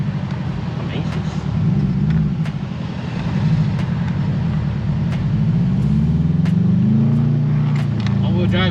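A Subaru WRX with a turbo and all-wheel drive pulls hard from inside the cabin, a steady low engine drone rising and falling in pitch as it accelerates, with people talking over it.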